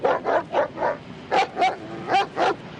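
A dog barks in a TV crime drama, eight short, loud, close yips in two quick groups of four.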